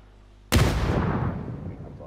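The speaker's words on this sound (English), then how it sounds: "Another grenade coming down." A grenade in PUBG explodes with a single loud, sudden boom after brief quiet, followed by a long rumbling decay that fades over more than a second.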